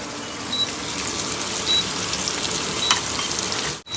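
Chopped vegetables with tomato and ginger-garlic paste sizzle steadily in a hot pan, a close, even frying hiss with a few faint clinks.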